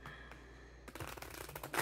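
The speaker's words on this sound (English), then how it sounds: "The deck's super hard. I have to like shuffle it with my knuckles." A stiff, hard tarot deck is shuffled using the knuckles, giving a brief quiet start and then a run of close, crisp riffling card flutters that grows louder toward the end.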